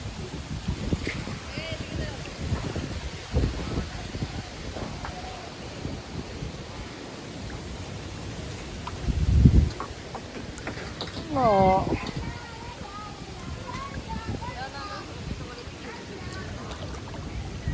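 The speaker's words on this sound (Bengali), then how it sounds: "প্রচুর বাতাস" Steady blustery wind roars across the microphone, with low gusty rumbles and a few people talking faintly in the background.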